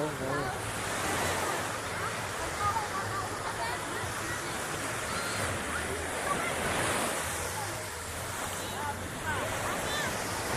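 Sea waves washing onto the shore at a beach resort in Bolinao, Pangasinan, a continuous broad surf roar with wind buffeting the microphone and voices faintly in the background.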